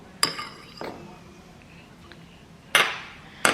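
A few sharp clinks of a fork against a bowl while mixing banana and milk, spaced irregularly and close by, with quiet pauses between them.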